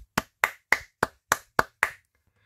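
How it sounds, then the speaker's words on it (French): One person claps seven times at an even, moderate pace, each crisp hand clap close and distinct against silence. "j'applaudis Lego avec un grand plaisir"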